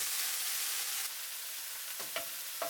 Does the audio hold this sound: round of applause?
no